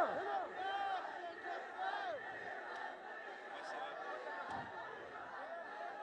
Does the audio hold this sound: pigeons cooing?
no